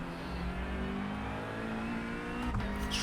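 A McLaren GT3 race car engine hums steadily at the Nürburgring in iRacing, a loud, sustained drone with a brief sharp burst near the end.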